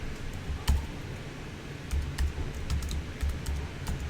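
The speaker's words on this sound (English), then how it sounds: "I'm just going to type in big letters U1." Typing on a computer keyboard to enter large letters in Scratch, with scattered soft key clicks and a few firmer taps in an irregular rhythm, close and fairly quiet, no voices.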